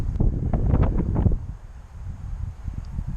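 Gusty wind buffets an outdoor microphone during a Phantom 3 drone transmitter test at a church, a loud low rumble that peaks early then drops to softer rolling gusts, no talk.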